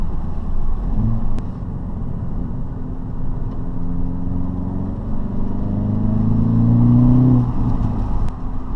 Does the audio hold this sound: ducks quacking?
no